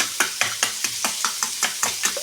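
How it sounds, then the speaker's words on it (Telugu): Salt mixed into beaten eggs with brisk hand stirring, roughly ten evenly spaced scraping strokes close by, each a short wet swish, alone without talk. "సాల్ట్ అంతా మిక్స్ అయ్యేలాగా ఇలా కలుపుకొని పెట్టుకోవాలి."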